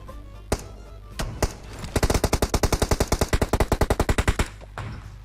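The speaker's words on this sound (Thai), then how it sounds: "กูโดนหลังยิง" Rapid automatic gunfire in the mobile game PUBG Mobile: a few single shots, then a long, evenly spaced burst of around twenty loud, sharp rounds, followed by one last shot, with no talk.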